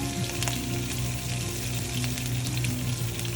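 Cumin seeds and chopped ginger frying in oil over medium heat for rawa upma, a steady close sizzle with faint crackles and occasional stirring clicks, no voices.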